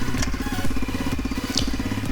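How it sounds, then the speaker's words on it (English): A 1986 Honda XR250R four-stroke 250 dirt bike, kickstarted by foot, runs with a loud, steady low thumping engine throughout and brief sharper clatters over it, with no talk. "with a properly tuned carb, this old 4-stroke 250 thumper really is no problem at all to start"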